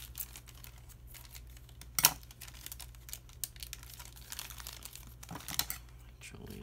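Sealed plastic packaging of a micrometer set being cut and handled, giving quiet crinkling and scraping with a couple of sharp clicks and snaps, close but faint over low background hum.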